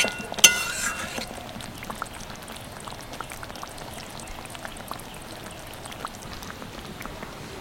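Vegetarian curry with pumpkin flowers bubbling and simmering in a pan, a steady soft crackle of boiling with a brief clink near the start and no talking.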